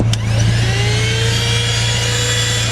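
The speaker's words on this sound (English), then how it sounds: "let's get started with vacuuming the inside of my car with the vacuum that my girlfriend got me" A handheld vacuum cleaner runs steadily while cleaning a car interior, a loud constant whine with a strong low hum, heard up close for the whole stretch with no talking.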